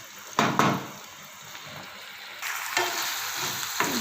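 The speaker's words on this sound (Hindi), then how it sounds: "टमाटो पेस्ट डाल के तो हम मज़ीद इसको 2 मिनट जो है वो फ्राई करते हैं" Chicken with tomato paste sizzles in a pan for a pizza bread roll filling, with a couple of sharp spoon knocks and scrapes over a low hiss, close by.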